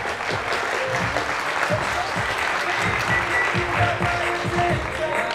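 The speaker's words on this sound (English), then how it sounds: "Give you a round of applause." Audience applause at a women's bikini competition: dense, steady clapping from a crowd that fills the whole stretch at an even, fairly loud level.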